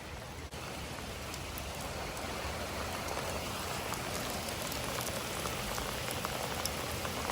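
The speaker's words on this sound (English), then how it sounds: "Started pouring." Heavy rain pours down on a farm, a dense, steady hiss and roar of drops drumming on surfaces that holds unbroken and fairly loud throughout.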